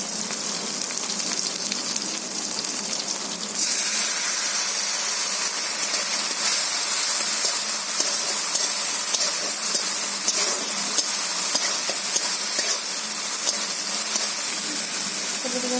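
Ground paste of mustard, ginger, garlic, coriander and cumin sizzling in hot oil for a river-fish curry, a loud continuous hiss that surges and brightens a few seconds in, then holds steady and dense throughout.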